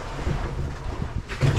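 Wind gusts buffet a microphone aboard a small boat at sea, giving a rough, fluctuating rumble with a stronger burst at the end.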